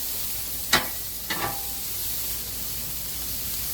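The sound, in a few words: steak and meat sizzling on a hibachi griddle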